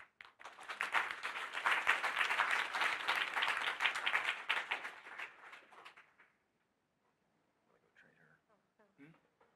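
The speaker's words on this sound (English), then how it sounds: "So a big applause for all of you" Book-event audience applauding the editors of a fiction collection, a dense burst of clapping lasting about six seconds before it cuts off, followed by quiet with faint voices.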